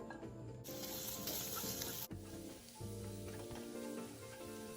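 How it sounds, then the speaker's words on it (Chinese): Sliced scallions fry in hot cooking oil in a wok over medium heat, giving a loud, dense, continuous sizzle that crackles and shifts in intensity as the pieces are tossed, with no one speaking. "炉开中火，再倒入葱片爆香"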